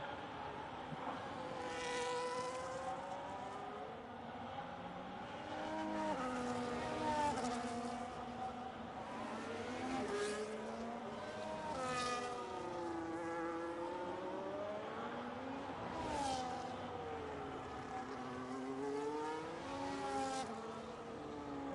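Several NASCAR race cars in a racing video game at the Circuit of the Americas, engines droning and sweeping up and down in pitch as they shift gears, continuous and layered throughout with no talk.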